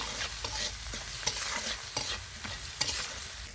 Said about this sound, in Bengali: পেস্টটা একটু ভেজে নিব